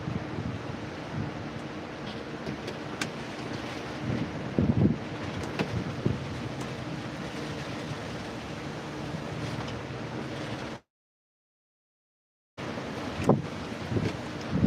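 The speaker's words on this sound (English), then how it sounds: "Damn, we getting some wind again." Strong wind gusting steadily across an outdoor microphone in Springfield, Missouri, a broad continuous roar with buffeting peaks, broken by a brief silent gap, no talk.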